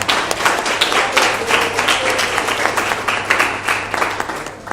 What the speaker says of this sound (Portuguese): dê uma salva de palmas bem alegre a Ele.